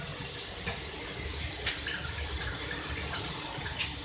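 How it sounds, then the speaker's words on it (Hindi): Water poured into a cooking pot of arvi gosht with spices, a steady splashing, rushing stream with a few small bubbling plops, close and continuous. "आप इसमें ऐड कर दें वाटर।"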